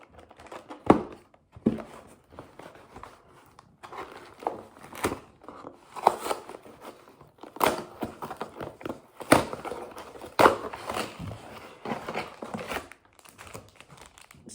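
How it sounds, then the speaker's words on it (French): An Amazon parcel being opened by hand, with close, irregular crinkling and rustling of the packaging and sharp crackles and tearing bursts throughout. "on se retrouve pour l'ouverture d'un colis de chez Amazon que j'avais commandé pour mes plantes."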